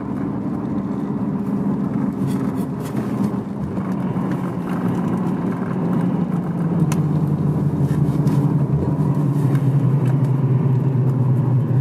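A 460-horsepower Nissan Skyline GT-R R33 with an upgraded clutch, driven up through the gears: a steady, loud engine drone heard from inside, with the pitch sweeping and dipping at a gear change near the end. No talking.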